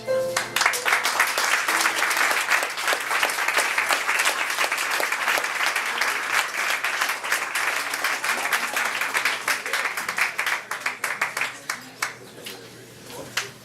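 Sustained audience applause after a poetry reading at a French-language third-anniversary evening, dense and loud clapping with some voices mixed in, thinning into scattered claps near the end.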